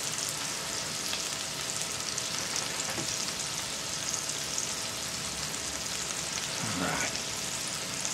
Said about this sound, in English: I'll put the cheese on mine to let it start melting in the pan.